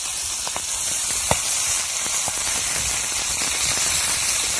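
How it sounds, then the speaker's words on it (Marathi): Green chillies crackle and sizzle in hot oil over a wood-fired stove, a steady bright hiss with scattered sharp pops and spits throughout. "तेल टाकलं का मिरच्या लई तडताड उडत आहे"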